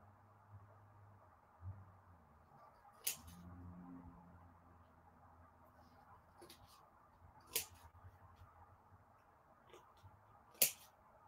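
Scissors trimming paper card at a crafting table: a few isolated crisp snips spaced seconds apart, quiet and close over a faint low hum.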